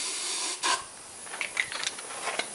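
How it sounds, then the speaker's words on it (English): Aerosol spray hissing into a repaired Briggs and Stratton small engine during a start attempt, a steady broad hiss with a stronger burst partway through and a few short sharper puffs near the end, close by with no talking. "I'm going to give it another spray"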